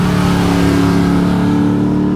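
A modified Rolls-Royce engine runs loud and close, a rough steady drone with a strong low hum throughout and no clear rev rise, with no talk over it.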